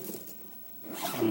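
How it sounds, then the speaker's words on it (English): A zipper closes on a DIY spearfishing float built from 3D-printed and hardware-store parts, giving a short, close raspy pull of about a second that rises toward the end, with no talking. "Zip it up."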